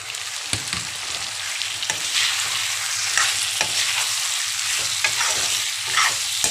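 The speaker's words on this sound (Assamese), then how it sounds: "মাংসখিনি দি দিম" Raw chicken goes into browned onions in a hot pan and fries with a loud, close, continuous sizzle, while several sharp scraping clicks come from the stirring spoon.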